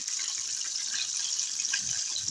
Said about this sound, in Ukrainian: І тепер смажимо добре так, е, приблизно 10-7 хвилин, щоб до такої коричневої, хрусткої скоринків